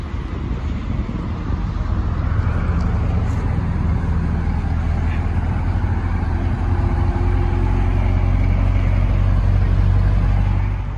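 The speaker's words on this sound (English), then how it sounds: "hit the remote start button twice, and it'll start." A 2020 Chevrolet C8 Corvette Stingray 2LT fires up by remote start and settles into a deep, steady idle. The low exhaust rumble holds for about eleven seconds, with some outdoor wind noise and no talking.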